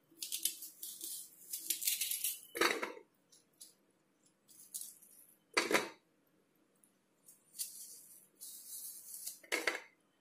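A knife roughly chopping onion into pieces and dropping them into a bowl while testing a vegetable chopper: several sharp, separate clatters and knocks spaced a few seconds apart, with quieter scraping between them, close up and with no talk.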